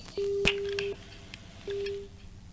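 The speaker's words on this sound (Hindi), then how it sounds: "लगता है फोन डिस्कनेक्ट हुआ है" During a live news phone call, the line cuts off and two steady electronic tones sound, each lasting under a second, with a click between them. Faint background noise fills the gaps; no talk is heard.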